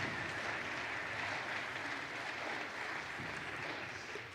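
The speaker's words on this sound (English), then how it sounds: "Another round of applause for Aiden Fitzpatrick there" Concert hall audience applauding at a St. Olaf Band concert: a dense, even roar of many hands clapping that holds steady throughout and tapers slightly at the end.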